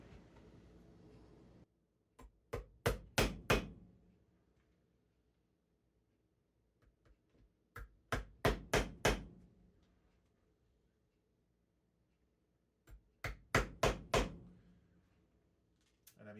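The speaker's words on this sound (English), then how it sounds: "So all I need to do is make sure the nails catch the leather sole, and that's going to keep this secure to the shoe." Hammering nails through a heel base into a new leather sole on an Allen Edmonds Park Avenue shoe, using the original factory nail holes: three bursts of four or five sharp, ringing hammer blows, separated by quiet pauses.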